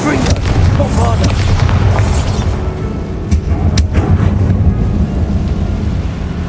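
The Bombarda spell explodes in Hogwarts Legacy: a heavy, booming blast with crackling debris, then sharp secondary cracks and a lingering rumble, loud and up front.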